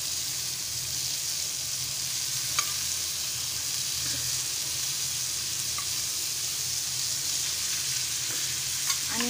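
Fish frying Malvani style in hot oil, a steady close sizzle running the whole time with a few faint clicks of utensils, no voices.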